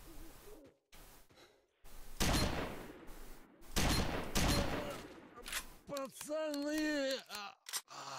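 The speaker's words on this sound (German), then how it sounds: "Und von den schießen wir erstmal in die Fresse." Gunfire in the video game S.T.A.L.K.E.R. Shadow of Chernobyl, loud broadband bursts of shots in a couple of clusters, followed by a wavering tonal sound near the end.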